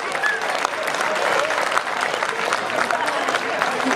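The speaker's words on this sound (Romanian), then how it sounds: "să-i întâmpinăm cu aplauze" An outdoor festival crowd in Ardud gives warm, sustained applause to a folk vocal ensemble from the Chernivtsi arts school, loud and even throughout, with some crowd murmur and a few faint voices underneath.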